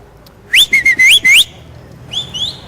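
A person whistles a bird-like call, a traditional whistled imitation of a nightingale: five loud, close, rapid warbling notes, then a pause and two fainter sliding notes.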